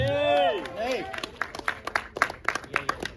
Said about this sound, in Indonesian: Yeay, tepuk tangan dong.